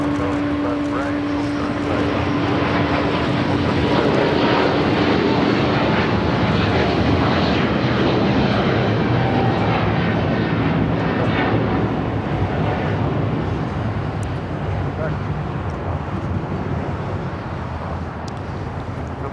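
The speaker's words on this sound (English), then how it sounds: "we got that 777 freighter next arrival at 25 left" Boeing 777 freighter arriving on runway 25 left at Los Angeles International Airport, a loud sustained jet roar that swells and slowly fades, with voices talking over it.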